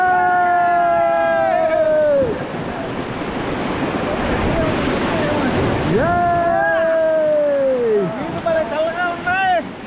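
Rushing river rapids in Kullu during a rafting trip, a steady broadband roar of splashing water close by, with voices shouting and talking over the churning flow throughout.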